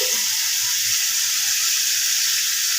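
Onion and chili paste hitting a hot pan for foil chicken, giving a steady, close, bright sizzle that hisses continuously without a break.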